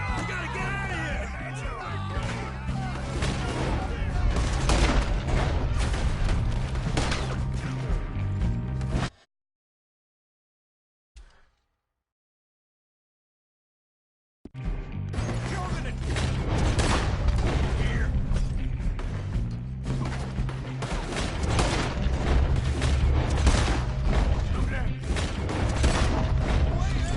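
A gunfight in Red Dead Redemption 2, dense overlapping gunshots and clattering action under game music and voices, loud for long stretches and broken by a few seconds of near silence midway.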